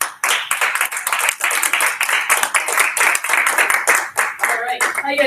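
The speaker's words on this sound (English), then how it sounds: "I want you to give a warm applause to 1-star diamond, Mrs. Mel Batterman." An audience at a live Saturday training event gives loud, sustained applause, dense clapping from many hands filling the room throughout.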